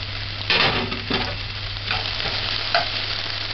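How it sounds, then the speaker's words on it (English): Onions sautéing in a pan for corned beef with green peas give a steady close sizzle, broken by a few louder bursts of stirring and scraping, with no talk. "Allow it to saute."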